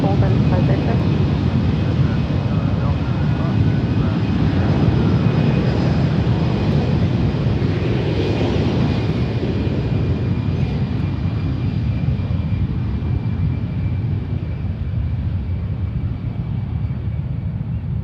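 An Alaska Airlines Airbus A321neo arriving at San Francisco International from JFK gives a steady, broad jet roar that holds loud and close for the full stretch, fading only slightly toward the end.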